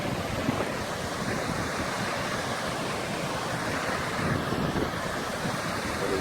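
Continuous roar of a river rushing near waterfalls, broad and steady like surf with some wind buffeting the microphone, no talk.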